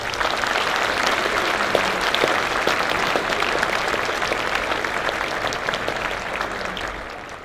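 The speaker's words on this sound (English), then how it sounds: "Let's give a round of applause." A school Veterans Day assembly crowd applauds steadily with dense, even clapping that holds for several seconds before tapering off slightly.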